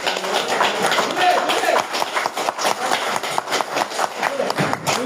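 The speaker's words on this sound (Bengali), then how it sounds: "তার জন্য একটু জোরে তালি দেন" An indoor audience claps loudly at a gathering, a dense spread of hand claps running steadily throughout, with people talking underneath.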